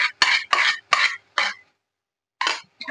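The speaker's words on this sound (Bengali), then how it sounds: "এবার দইটা দিয়ে ভালো করে ভাজতে ভাজতে তেল ছেড়ে দিবে।" Spoon strokes against a pan as spices fry with yogurt, a quick series of five scraping clinks, then a pause and two more, close and with no voices.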